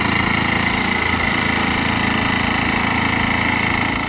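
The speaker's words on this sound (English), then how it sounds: "Now this is a tractor with character." A small tractor with a T's 4K14 engine runs steadily at a constant idle-like drone, fairly loud and close, with no talk over it.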